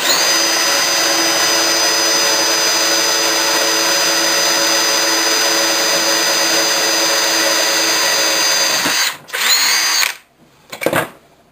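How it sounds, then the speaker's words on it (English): A loud electric drill with a number 38 bit whirs steadily at high speed for several seconds, then slows and stops briefly before spinning up once more and winding down. "take the drill, and it'll be a number 38 drill. And I'll drill a hole through it."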